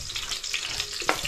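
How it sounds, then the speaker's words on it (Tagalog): Ginger and then garlic sautéing in a pan with a steady, close sizzle of frying and a brief stir or clink near the end, no voices. "Pag gagigisa ako, inuuna ko yung luya. Sunod bawang."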